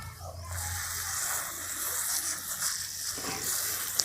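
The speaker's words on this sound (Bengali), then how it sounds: "আমি জলটা দিয়ে দিচ্ছি একটু দূরে" Water poured from a short distance onto the soil of a freshly repotted moon cactus, a steady close trickle and splash lasting a few seconds, with a low hum underneath and no talk.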